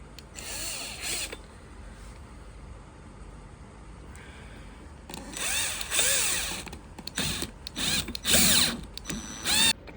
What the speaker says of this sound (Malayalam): അത് ജസ്റ്റ് ഒന്ന് നമുക്ക് ഡ്രില്ല് വെച്ചിട്ട് ഒന്ന് ഫിക്സ് ചെയ്ത് കൊടുക്കാം.